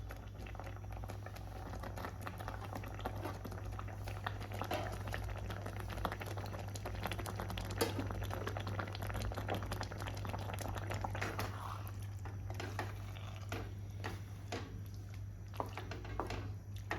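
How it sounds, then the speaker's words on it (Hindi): Chicken simmers in a covered pot, the creamy Turkish-style sauce giving a soft, steady bubbling patter that stays faint and unbroken throughout. "चिकन को हमें अच्छे से पका लेना है।"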